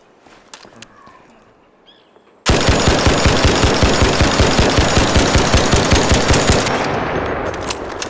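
A rapid burst of automatic gunfire from a video-game gun fitted with a muzzle brake 3 erupts after quiet footsteps and ambience, then hammers out loud, evenly spaced shots for several seconds before stopping abruptly.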